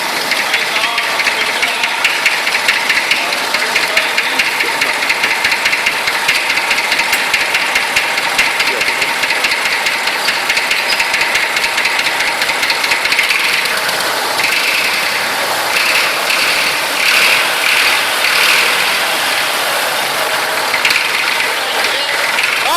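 An old Massey Ferguson 35 tractor engine running at idle outdoors: a loud, close, steady mechanical clatter with a fast knocking rhythm that continues evenly throughout.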